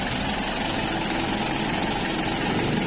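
A Hyundai Starex campervan engine idles with the air conditioning running, a steady, even drone heard up close throughout, with no voices.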